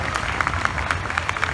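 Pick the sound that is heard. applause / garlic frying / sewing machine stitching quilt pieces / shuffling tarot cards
applause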